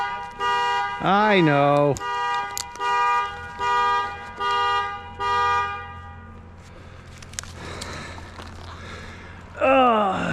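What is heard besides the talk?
car alarm set off by key in pocket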